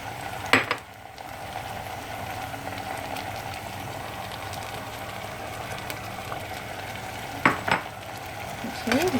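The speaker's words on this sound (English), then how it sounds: "I'm going to add the tomato sauce from the sardine can" Tomato sauce from a sardine can sizzling in a pan of half-cooked potatoes, a steady, moderate frying hiss with a few brief clinks of utensils against the pan.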